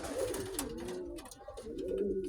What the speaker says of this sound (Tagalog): Sobrang lalaki nga niyang kalapati.